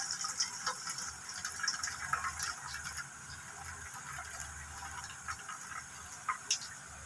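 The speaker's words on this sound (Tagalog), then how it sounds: "tatanggalan ko ng tubig para makita natin kung nalinis ba yung mga barya" Dirty water draining from coins that were buried in salt water and soaked in Ariel powder soap: a light, steady trickle with faint ticking drips over its length, nearby and fairly quiet, with no talk.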